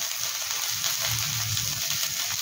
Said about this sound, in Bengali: এবার এটার মধ্যে এই যে দুটো পেঁয়াজ ছিল পেঁয়াজগুলোকে দিয়ে দেবো